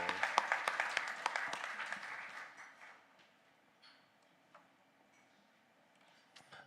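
At the AFMA 2024 event, an audience claps for a musician: sharp, close clapping for about three seconds, then fading to near silence with a few scattered claps.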